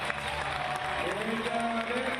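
Spectators at the Paris 2016 climbing world championship applauding a climber in a sustained wash of clapping and crowd noise, fairly distant and steady, with a commentator's voice faintly underneath.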